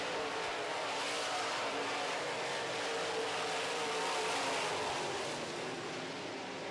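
Modified race cars roar around the track in a steady, dense engine wash, loud and continuous with no clear single pass, during a heat race.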